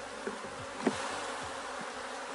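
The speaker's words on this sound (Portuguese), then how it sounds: "E aqui eu vou ter que correr agora para recuperar o enxame." A honeybee colony buzzes at an opened hive after a failed split, a dense steady drone with individual bees zipping close past, no talk.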